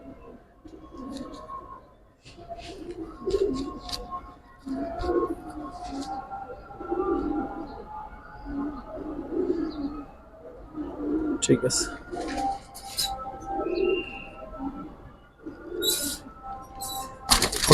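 Giribaz and silver Bagha pigeons coo repeatedly in a low throaty rhythm, close and steady, while people talk now and then and sharp clicks and chirps break through.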